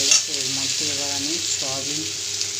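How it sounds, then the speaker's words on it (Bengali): Cumin seeds sizzle and fry in hot oil in a pan for a soybean and potato curry, a constant bright crackle, while a voice speaks over the sizzling throughout. "হালকা লাল জিরেটা ভাজা হয়ে যাচ্ছে"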